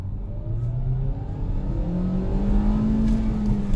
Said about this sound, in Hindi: लेट्स डू 0 to 100 CNG पे गाड़ी अभी